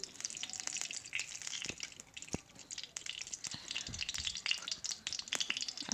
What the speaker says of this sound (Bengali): এখন আমি কড়াইয়ে দিয়ে দিলাম তেল সয়াবিন তেল